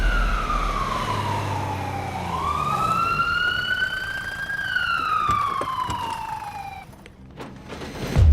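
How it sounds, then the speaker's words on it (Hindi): An ambulance siren wails loud and close, its tone gliding slowly down, up and down again in long sweeps, then cutting off near the end. "Hello ambulance."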